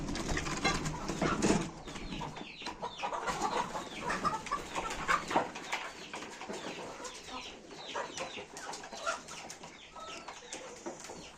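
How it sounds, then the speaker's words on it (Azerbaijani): Backyard hens let out toward a feed mixture cluck and chatter in a loose, overlapping flock, some calls close and others farther off, with no talking. "İndi digər filmimizdəki toyuqlarımızı da buraxaq."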